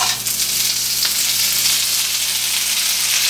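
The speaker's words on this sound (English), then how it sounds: "throwing some frozen spinach on the pan to saute down" Frozen spinach sautéing in a pan alongside egg whites, a loud, close, steady sizzle and crackle of frying with a faint low hum underneath.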